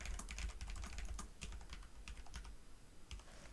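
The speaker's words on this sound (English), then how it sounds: "I'm typing more about finding the solutions later." A computer keyboard clacks in quick, uneven bursts of keystrokes during a math lecture on quadratic inequalities, fairly close and with no voices over it.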